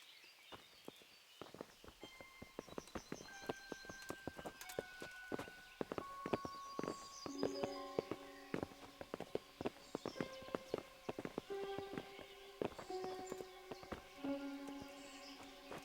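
Horse hooves clip-clopping in the medieval Bohemian video game Kingdom Come: Deliverance, a steady run of walking hoofbeats close by, layered under tonal orchestral music for the whole stretch.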